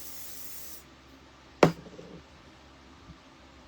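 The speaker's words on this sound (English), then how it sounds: "So I'm going to spray the back now." A short burst of aerosol spray paint hisses up close, then cuts off, leaving a quiet room with a faint rattle afterward.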